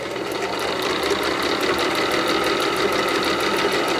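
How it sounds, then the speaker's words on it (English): A sewing machine stitches Ikea kitchen towels into pillow covers, running at a steady fast whir with an even rapid rhythm, close and loud for the whole stretch, with no talking. "I'm gonna sew from the back."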